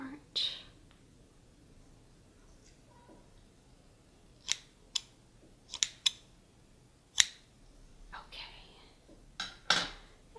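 Salon scissors snipping strands of tinsel in hair, several close, crisp isolated snips spaced a second or so apart over quiet background, with faint soft movements between them.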